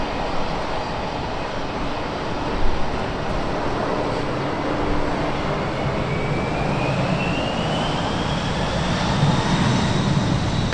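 A British Airways Boeing 777, G-ZZZB, on its final flight before scrapping, roars down runway 27 right on takeoff, a loud sustained engine rumble with a slowly rising whine that builds steadily.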